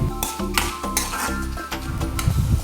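Turkey berries roasting in a pan, giving close, busy rattling and clinking as they are stirred against the metal, with a light sizzle underneath.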